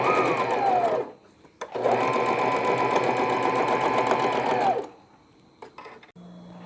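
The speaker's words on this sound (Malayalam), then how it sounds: "ഇത് കഴിഞ്ഞാൽ സ്ട്രെയിറ്റ് 2 ക്ലോത്ത് വെച്ചടിക്കുന്നത് പോലെ സ്റ്റിച്ച് ചെയ്യാം." A sewing machine runs close up while stitching a newborn baby vest. A short burst is followed by a longer, steady run of fast rhythmic whirring, which then stops into quiet with faint handling clicks.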